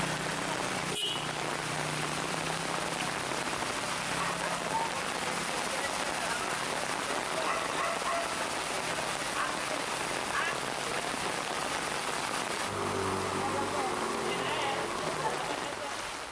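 Heavy rain pours steadily onto a flooded street in Duren Sawit, Jakarta, a dense continuous hiss of drops and splashing water, with a reporter speaking over it.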